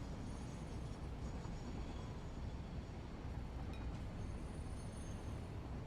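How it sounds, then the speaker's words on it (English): A train passing in a video game, a steady dense low rumble with faint high squeal traces, continuous and fairly quiet with no voices. "I think this train here is going over there right now"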